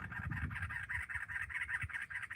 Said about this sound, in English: there's a bird in this tree